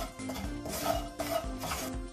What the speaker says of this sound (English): And now let's get this roasted for about 2 to 3 minutes